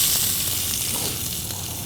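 Sliced onions frying in oil in a pan for Mopillah biryani, a brief steady bright sizzle heard up close, fading slightly toward the end, with no voices.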